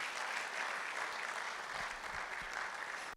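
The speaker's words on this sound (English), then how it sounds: "round of applause, let's show it for them" A large audience applauds at the Ghana College of Physicians and Surgeons leadership symposium. The clapping is dense and sustained, holding an even level for about three seconds before it cuts off abruptly.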